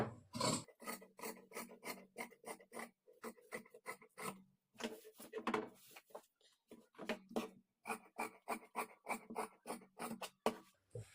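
Scissors cutting blouse sleeve fabric, a close, quiet series of rhythmic crisp snips in quick bursts with short pauses between runs of cuts, no talking.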